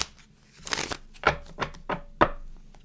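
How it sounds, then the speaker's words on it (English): Tarot cards being shuffled in a few crisp riffling bursts, close and fairly quiet, with short pauses between them. "so I'm going to keep shuffling"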